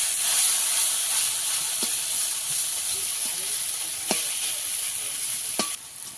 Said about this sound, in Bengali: এই চিচিঙ্গা অনেক টাইম ধরে ভাজতে হয়